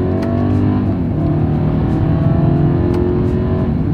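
A Mercedes-Benz GLE 350 in sport driving mode accelerates hard from first gear on a straightaway, the engine note droning steadily and loudly inside the cabin, with no talking.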